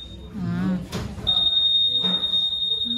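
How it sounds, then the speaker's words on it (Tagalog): Honda ADV 160 scooter alarm armed by remote, sounding as a steady high electronic tone that starts partway through and holds to the end, under someone speaking nearby. "Ito naman sa ano, sa remote. Sa window, naka-active na po yung alarm niya."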